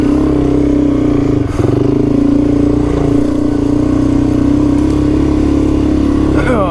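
A motorcycle engine drones and revs steadily as the rider pushes through soft sand tracks in the Simpson Desert. It holds a constant loud note with brief throttle dips and rattles, and a voice is faintly audible underneath.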